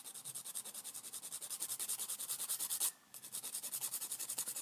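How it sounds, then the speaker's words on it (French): A nail file rubs rhythmically across a false nail tip, giving close, quiet, rapid scratching strokes in an even back-and-forth pattern with one short pause midway. "je vais directement en fait enlever la démarcation en limant sur l'ongle, pas l'ongle naturel, mais juste la capsule en fait,"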